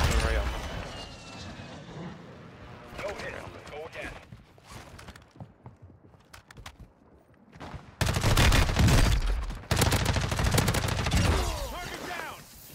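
An airstrike in the video game Call of Duty Warzone: loud bursts of gunfire and explosive impacts that roar in near the end, with an aircraft drone and voices talking over the opening chatter.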